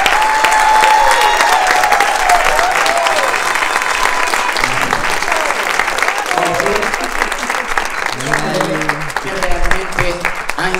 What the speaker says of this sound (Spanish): Que le den un fuerte aplauso